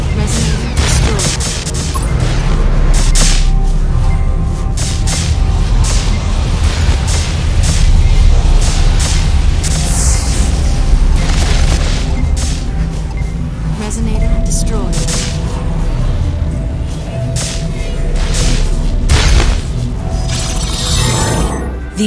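Attack explosions in the mobile game Ingress Prime crash and shatter over and over, loud and dense throughout, while a voice speaks over them.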